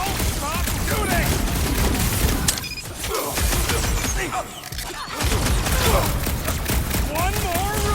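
Gunfire during a Nova Corps outpost fight in Marvel's Guardians of the Galaxy: dense, continuous shooting and blasts with whirring weapon sounds, briefly thinning midway, while characters talk over the combat.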